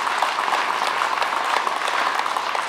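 Audience applauding steadily for a sculptor at a Seyfo commemoration in France, dense even clapping from a crowd, fairly close, with no talk over it.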